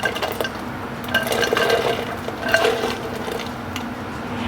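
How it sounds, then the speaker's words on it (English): Blackberries tipped into a pot of boiling water on a stove, giving soft plops, splashes and light clinks against the pot over a steady bubbling background, fairly close. "All right, we are boiling, so now we're gonna add our blackberries."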